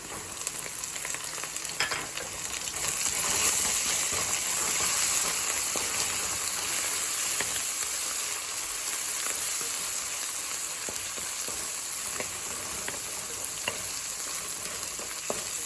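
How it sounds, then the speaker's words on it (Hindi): Steady, close sizzling and crackling of crushed ginger garlic paste frying with browned onion in a hot pan, with occasional stirring scrapes, continuous throughout. "अदरक लहसुन भून चुका है।"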